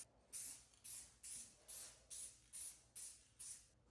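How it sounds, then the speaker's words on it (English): Clear spray paint from an aerosol can is applied as a clear coat on a woodworking project, nine short even hissing bursts in a steady rhythm, close and fairly quiet. "Some will hate me here for using clear spray paint for the clear coat."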